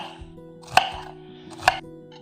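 Two sharp knife chops on a cutting board while shallots are cut, a loud thud near the middle and another near the end, with a steady low hum underneath.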